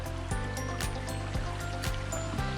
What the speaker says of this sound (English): Finally crossing over the stream that we've been following along.